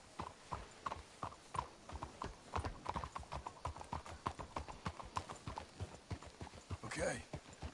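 Horses trotting in Red Dead Redemption 2, with a steady clip-clop of hooves on ground as riders move along, close and rhythmic, with a brief whinny near the end and some voices underneath.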